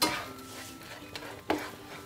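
Lightly salted eggs are tossed in a pan, with a soft sizzle under two distinct scraping clicks of a utensil against the pan, close and fairly quiet, with no talk.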